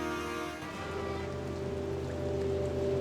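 Steady rain falls in the video game Chicken Police, a soft continuous patter on surfaces mixed with a low sustained tonal hum of game ambience, with no talking.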